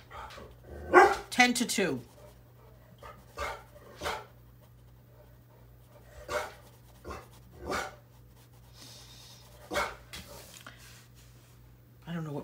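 A dog barks indoors in scattered short bursts, a few loud and close, others fainter, with a person talking between and over the barks.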